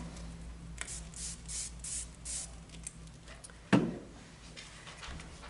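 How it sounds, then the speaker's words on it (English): A spray bottle spritzes water onto paint in a home portrait-painting setting, with several soft hissing bursts early on and one sharper, louder puff near the end, all fairly close. "So I'm going to spritz a little."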